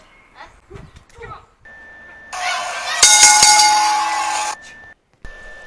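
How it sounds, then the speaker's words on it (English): A bright, ringing bell clangs loudly with a sustained shimmering tone and a few sharp strikes at the start of a match, following quieter talk and ending in a short tone. "The bell did ring"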